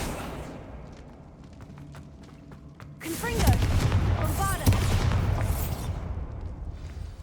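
A Bombarda blasting spell goes off in Hogwarts Legacy with a heavy boom midway, then a second burst and a rolling, crackling rumble that fades slowly.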